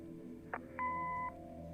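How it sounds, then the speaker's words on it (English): A single short electronic answering-machine beep from the video game Kathy Rain sounds after a faint click, clear against a quiet background hum. "Leave a message after the beep."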